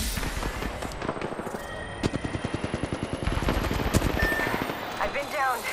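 Rapid automatic gunfire in the video game Apex Legends, with bursts of sharp, evenly spaced shots in quick rhythm over a busy background of game effects.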